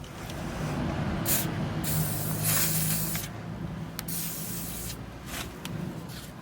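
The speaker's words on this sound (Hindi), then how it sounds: "तो कार्बन के लिए इसके अंदर हम स्प्रे कर देंगे इलेक्ट्रो क्लीनर या WD-40, जो भी आप चाहें।" WD-40 sprayed onto car power window switch connectors: several loud, close hissing bursts of aerosol, some short and one long sustained spray, with no talking.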